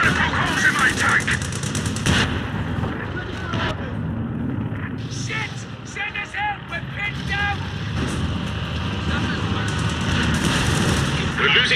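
Bullets and gunfire striking a tank in the video game Company of Heroes 2, with sustained rattling shots and metallic pings over a rumbling engine and battle din, while a voice speaks throughout.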